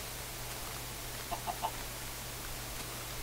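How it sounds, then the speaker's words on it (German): A chicken in Minecraft gives three quick soft clucks in a row, faint against a steady low hum, with no talk. "Und ich sehe eine Gans."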